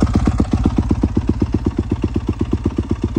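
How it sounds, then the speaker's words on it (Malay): A motorcycle engine warms up at idle close by, its steady, rhythmic putter of evenly spaced firing pulses running without a break and with no talking. "Kita panaskan enjin dulu."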